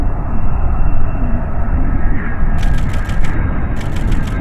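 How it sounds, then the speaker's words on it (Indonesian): A fighter jet in flight gives a loud, continuous roaring rumble that stays steady throughout, with brief rattling bursts near the end. "Ini jet tempur. Ayo teman-teman, kita terbangkan."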